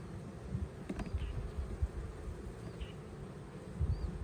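Honeybees buzz around an open hive that is being rebuilt, a steady dense hum close by with a few louder bees passing near and faint handling knocks underneath.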